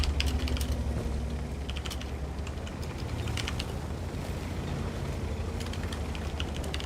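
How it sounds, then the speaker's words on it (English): Fast typing clatters on a computer keyboard, nearby and loud, with a steady stream of quick key clicks over a low background hum and no talking. "That poor keyboard."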